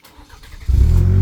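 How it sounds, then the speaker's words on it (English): A modified turbocharged 2.7-litre Chevy Silverado pickup engine cranks briefly and catches, then settles into a loud, steady low rumble close by. "let me go ahead and start it up for you guys."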